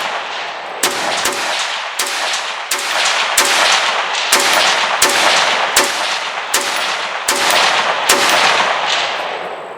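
A series of about eleven sharp, loud rifle shots from an SG550-1 sniper rifle at an outdoor range, fired at a fairly even pace about a second apart, with no voices.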